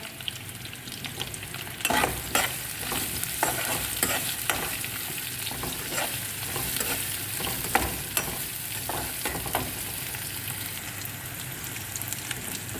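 Onion frying in a little oil with ginger and garlic, a continuous soft sizzle broken by frequent stirring clatters close by, with no talking.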